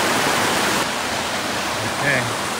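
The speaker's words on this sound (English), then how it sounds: "made it to the Eaton Canyon waterfall" Eaton Canyon waterfall pouring into its pool, a steady close-up rush of broadband water noise that fills the whole stretch, with a brief voice-like sound near the end.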